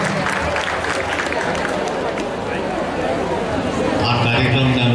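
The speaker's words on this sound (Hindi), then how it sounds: "जोरदार तालियों से स्वागत है" Applause and crowd noise fill the hall as a guest is welcomed at the 2021 SSHMC Godhra convocation, with a voice talking over the clapping.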